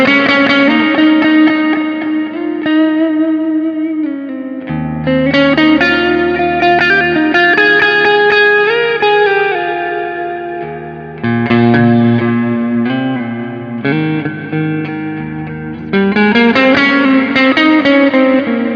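Electric guitar played through the S-Gear 3 amp simulator's Heaven preset, lush, shimmering chords and notes washed in chorus, reverb and echo, ringing continuously and loud with no voices.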